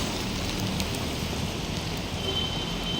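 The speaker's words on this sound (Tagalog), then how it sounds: "Ayan guys, umuulan." Steady rain falls on a city street near Lucky Chinatown in Manila in a continuous hiss, with scattered drops pattering on surfaces nearby and no voices.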